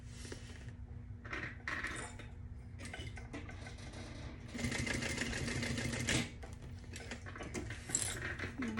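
A sewing machine bastes a Georgina convertible tote bag, stitching in close, quiet runs broken by brief stops and small rattling handling noises.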